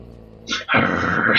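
A war dog in Dragon Age: Origins lets out a short, close growl that breaks into a loud, rough bark, the whole burst lasting about a second.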